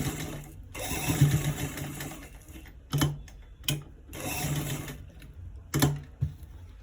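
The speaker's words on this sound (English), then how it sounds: "So we'll stitch it all around again." A sewing machine stitches around a hidden round neckline in short, quiet runs separated by pauses and a few sharp clicks, heard up close without speech.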